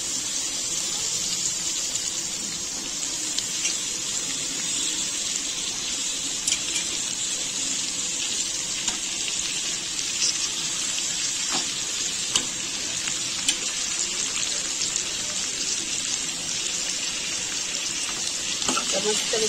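Cauliflower sizzling in a hot pan: a steady, even frying hiss with occasional crackles and pops, continuous and close throughout, with faint talk in the background.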